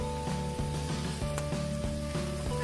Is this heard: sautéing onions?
yes